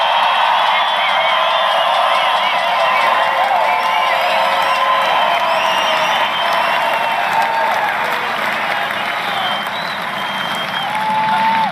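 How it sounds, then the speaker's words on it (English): Sustained applause and cheering from a large outdoor political rally crowd in Belgrade, Montana, honoring veterans, a steady dense roar of clapping with whoops throughout. "we all should give them a tremendous round of applause"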